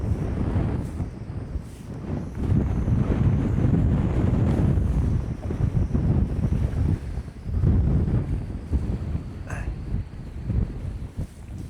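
Strong gusting wind buffets the microphone around a fishing kayak on open sea water ahead of a storm, with small waves lapping and slapping at the hull throughout, loud and continuous, no talk.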